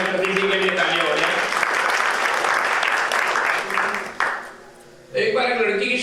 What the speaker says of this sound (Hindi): और एक बार डॉक्टर साहब के लिए और हमारे ज्ञानपति जी के लिए तालियां हो जाए।